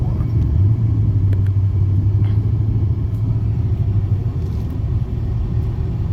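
A car's engine rumbles steadily and loud at a street cruise event, holding a sustained low drone as it is revved ahead of a burnout.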